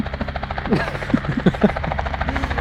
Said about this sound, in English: Our landlord's got his chopper out.